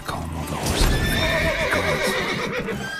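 In The Witcher 3, agitated horses neigh in shrill, quavering calls while hooves clip-clop underneath, close and loud throughout a short stretch.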